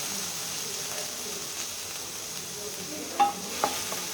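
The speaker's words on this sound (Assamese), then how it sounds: "গোল্ডেন ব্ৰাউন হোৱালৈকে অলপমান নহৰুখিনি ভাজি ল'ব লাগিব" Crushed garlic frying in oil until golden brown, a soft even sizzle close by, broken near the end by a couple of sharp utensil clinks.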